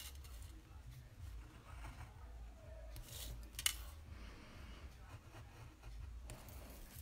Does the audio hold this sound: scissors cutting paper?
yes